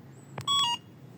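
Short alarm chirp from a Yadea E8S electric scooter's security system: a brief tonal beep burst, fairly faint against low background noise, heard once.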